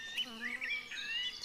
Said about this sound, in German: Breitmundfliege.